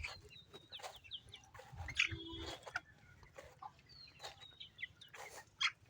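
Chickens in a poultry farm shed, a dense chorus of soft clucks and short chirps from many birds, quiet and ongoing over a low background hum, with no talk.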